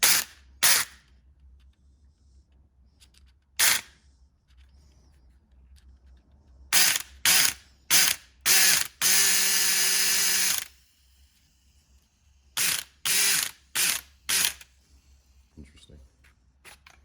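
A disassembled Makita cordless drill with its gears exposed, run in repeated short whirring bursts plus one longer sustained spin, loud and close, with brief pauses and small handling clicks between runs.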